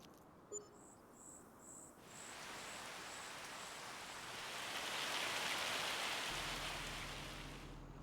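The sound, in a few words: rain in video game Farming Simulator 25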